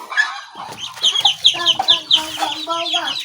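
A newly hatched chick peeps in repeated high, quick chirps close by, with a few clucks from farm chickens mixed in and no clear talk.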